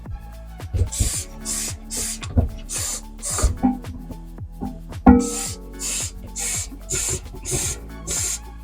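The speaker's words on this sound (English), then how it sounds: "and spray in here as well." Repeated short hissing bursts of a spray bottle of cleaner aimed inside a washing machine, about ten quick squirts in a steady rhythm, close and fairly loud.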